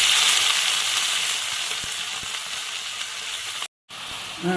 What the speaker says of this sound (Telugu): ఇదే బాండిల్లో ఆయిల్ వేసుకొని చింతాకు ఫ్రై చేసుకోవాలి